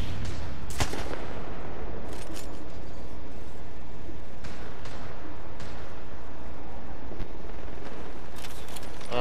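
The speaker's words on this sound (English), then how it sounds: "somebody shooting him in the back" Gunfire in Apex Legends, with a few sharp bursts of shots near the start and scattered later over a loud, steady background roar of game ambience.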